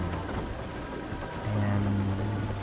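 A waterfall in the game Myst IV Revelation gives a steady broadband rush of falling water, joined partway through by a low droning hum.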